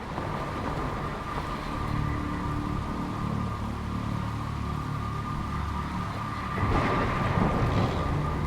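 Video game sound from Jenny LeClue: Detectivú: heavy rain pours steadily, with a low rumble of thunder building beneath and swelling louder toward the end.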